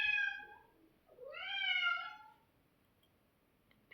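A pet cat named Céline, a male, meows twice: a short call, a pause, then a longer rising-and-falling meow. Both are close and clear over a quiet background.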